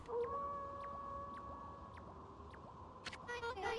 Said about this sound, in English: That was Kamui's howl.